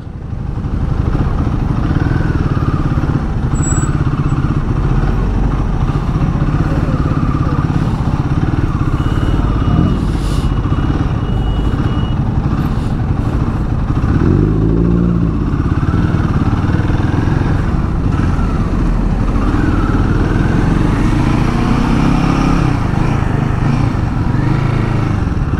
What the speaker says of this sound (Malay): Hari ini aku sedang menunggang Royal Enfield Guerrilla